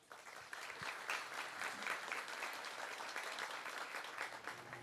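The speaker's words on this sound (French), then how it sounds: "Et je vous demande de les applaudir." Applause at a university congress for the organisers who worked on the event, a sustained wash of many hands clapping, fairly distant and soft, rising quickly after a brief quiet start and holding steady.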